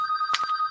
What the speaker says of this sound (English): the phone is ringing. Hotline.